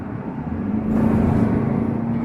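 A Kia Carnival minivan's engine drones steadily from inside the cabin, rising a little in loudness and body about a second in as the throttle is pressed harder, with a constant low hum.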